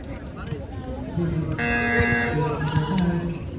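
At a basketball game, a loud electronic buzzer blares for a second or two over an echoing crowd of chatter and shouts, with a short beep following.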